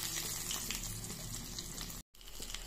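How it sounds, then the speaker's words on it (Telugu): Breaded vegetable bread roll balls, made with beetroot and potato, bubble and sizzle in hot oil in a pan, a steady close frying hiss with a brief dropout, no voices. "ఈ బాల్స్ని స్లోగా ఈ ఆయిల్లో వేద్దాం."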